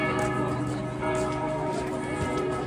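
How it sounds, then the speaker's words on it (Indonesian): Bells ring steadily at an outdoor Christmas market, a moderately loud resonant tolling under a busy crowd murmur, with voices talking nearby. "Suaranya lho, suara lonceng."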